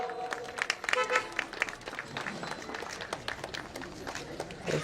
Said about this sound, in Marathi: एकदा सगळ्यांनी जोरदार टाळ्या वाजवूयात